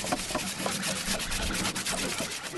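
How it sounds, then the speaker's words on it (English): Scratchy rubbing of sandpaper on wood in quick back-and-forth strokes, close and steady. "Some of us were sanding, a great background sound for conversation."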